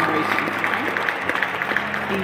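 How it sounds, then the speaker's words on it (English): A church congregation claps along during a sermon, a steady rhythmic patter of many hands carried under a preacher's loud voice. "would you clap your hands for me?"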